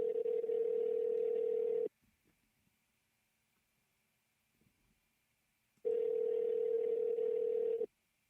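Telephone ringback tone heard while calling someone, two loud, steady electronic tone bursts of about two seconds each, separated by a four-second silence.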